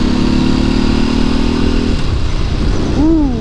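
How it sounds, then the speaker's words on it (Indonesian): A Ducati 749 motorcycle with a dry clutch rumbles loudly at close range with a steady, lumpy engine note, then settles lower before a short rising whine near the end. "Suara dry clutch-nya itu loh, dan Ducati tua engine cek-cek-cek-ceknya itu loh."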